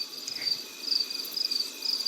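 Crickets chirp in the game Life is Strange Remastered, a high, pulsing trill repeating in short bursts over a quiet night background, steady and fairly close, with no speech.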